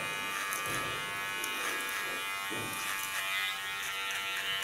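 Electric hair clippers cut short hair in a pixie haircut, a steady close buzz with small swells as the blades move through the hair, no talking.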